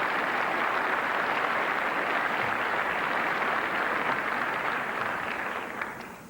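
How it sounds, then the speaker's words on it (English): A large banquet-hall audience at a NASCAR Winston Cup awards banquet applauds in a steady, dense wash of clapping that holds evenly and then starts to taper near the end. "let's give him another round of applause"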